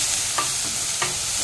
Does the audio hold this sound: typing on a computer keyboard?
no